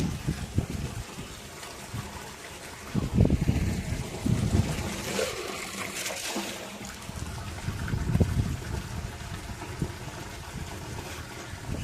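Fresh water pours and splashes into a tank on a farm, a continuous broadband gush with surging bursts and trickling over the full length, fairly close and loud, with no talking.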